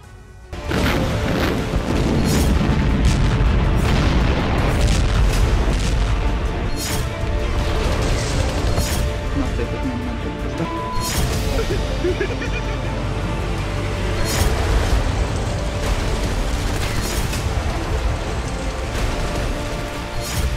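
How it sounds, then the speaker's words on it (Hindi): Explosions and artillery strikes in a war zone during the Russia-Ukraine war: repeated heavy booms and crashes over a continuous loud rumble, with sharp impacts landing every few seconds. "बारूद की चोट से बेहिसाब कराहते युद्ध क्षेत्र का ये दृश्य है।"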